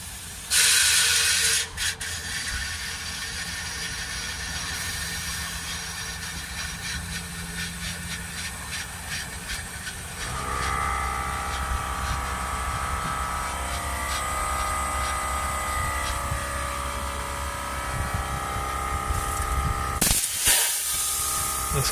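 DPF cleaner sprays through a nozzle pushed into the exhaust of a Renault Trafic van, a continuous loud hiss with a low rumble that swells partway through and ends in a sharp burst.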